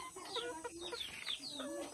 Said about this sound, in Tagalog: marami kaming manok.